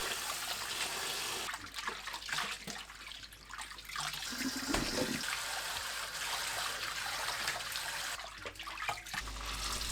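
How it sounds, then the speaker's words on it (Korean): Blanched amaranth greens are rinsed in cold water, with steady running and splashing water that holds loud throughout and has brief pauses and shifts in the flow. "찬물에 두세 번 헹굽니다"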